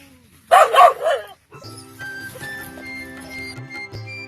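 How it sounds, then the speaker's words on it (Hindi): Guard dogs posted around a mango orchard bark in a short loud burst of several yaps early on, followed by quieter steady background hum and tonal noise. "इस बगीचे में अलग अलग कोनों पर 9 कुत्तों की गार्ड के साथ तैनाती की गई है।"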